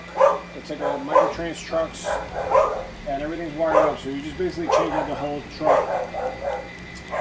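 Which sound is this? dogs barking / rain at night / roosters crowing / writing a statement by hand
dogs barking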